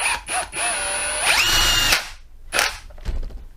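A Ryobi R18PD7 cordless drill drives into wood, whining steadily for about two seconds, then gives short bursts as the clutch ratchets.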